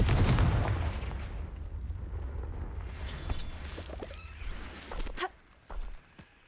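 A Confringo fire spell blasts in Hogwarts Legacy, a loud burst up front that decays into rumbling, followed by scattered crackles and short impacts and a final brief thump.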